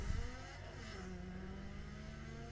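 A car engine in a Need for Speed No Limits mod revs with a sharp burst at the start, then settles into a steady rising whine and hum, moderately loud with no speech.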